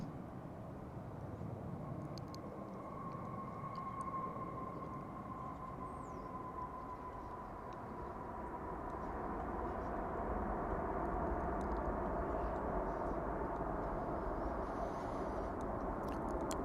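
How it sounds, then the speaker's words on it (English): An American Airlines Boeing 787-9 Dreamliner jet on approach at DFW International Airport, a steady, broad roar that swells louder over the second half as the aircraft draws nearer. "a Dreamliner 787-9 from Maui. American Flight 6."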